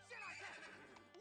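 A toy horse whinnies in a Toy Story 2 read-along: one short, quiet neigh lasting about a second, with no talk over it.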